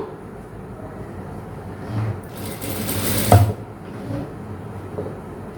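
A sewing machine runs a short, moderately loud stitching burst on a blouse, rising from a quiet room background and ending with a soft mechanical clunk.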